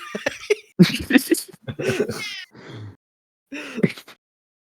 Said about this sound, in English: I think your cat has more to say.